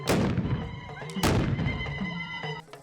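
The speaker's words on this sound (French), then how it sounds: "Des coups de canon pour annoncer la sortie du roi, le Dima de Tenkodogo" Ceremonial cannon shots announcing the king's exit at a festival in Tenkodogo, two loud booming blasts about a second apart, each trailing off in a rumbling echo, with crowd noise beneath.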